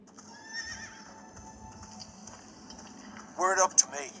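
A horse in the Game of Thrones video game gives a short, sharp whinny near the end, loud and close over a quiet tonal background.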